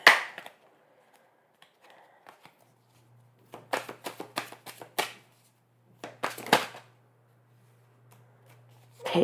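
Tarot cards are shuffled close by in quick riffling flurries of crisp snaps, with quiet pauses between the bursts and a faint steady hum in the background.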